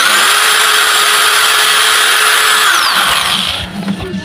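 A REAIM 1000W heavy-duty angle grinder spinning freely at full speed with a loud, steady high whine, then winding down and stopping near the end.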